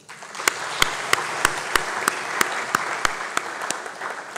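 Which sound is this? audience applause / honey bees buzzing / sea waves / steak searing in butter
audience applause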